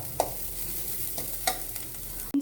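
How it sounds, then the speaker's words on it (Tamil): Green beans are stirred and fried in hot oil in a pan for a vegetable sandwich filling: a steady close sizzle broken by a few soft scraping stirs, with a sharp clack at the end. "இப்போ பீன்ஸ் சேர்த்து நல்லா வதக்கிக்கலாம்."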